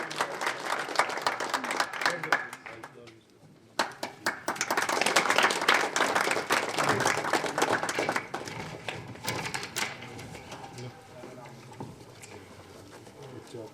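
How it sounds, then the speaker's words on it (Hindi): Loud, sustained clapping fills a family honour ceremony where a grandfather accepts recognition on behalf of his grandson. The applause briefly dips near the start, then swells again, with voices talking over it. "जोर से तालियां बजाओ।"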